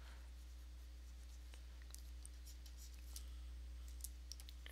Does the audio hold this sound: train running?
no